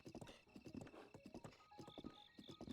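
Horse hooves clip-clop in a steady walking rhythm in Zelda: Breath of the Wild, a series of sharp, fairly close hoofbeats with brief whinnying tones mixed among them.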